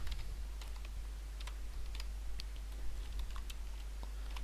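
Python code being typed on a computer keyboard, with quick irregular clicks of keystrokes in bursts, close to the mic over a low steady hum.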